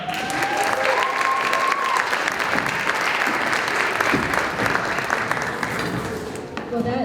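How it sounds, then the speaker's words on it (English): An audience at a winter choir concert claps steadily, dense and sustained applause filling a hall, with a voice briefly heard over it. "Can we have another round of applause, please?"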